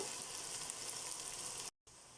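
Onion frying in a pan until golden, a quiet, even hiss of sizzling that cuts off briefly near the end, with no talk.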